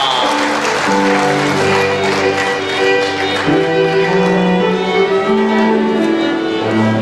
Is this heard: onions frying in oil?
no